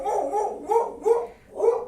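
A dog barks in a home in several loud, close barks with short gaps between them, and no one speaks over the barking.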